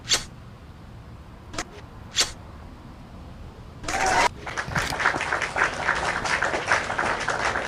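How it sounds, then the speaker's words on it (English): Audience applause at a talk: a few brief claps early on, then dense, sustained clapping breaks out partway through and carries loudly to the end. "we got to give ourselves a round of applause"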